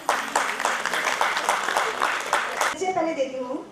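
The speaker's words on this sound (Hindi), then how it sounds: "जोरदार तालियां।" An audience at a women's astrology conference in Bhopal claps in a steady burst of applause for a few seconds, then voices speak as it fades.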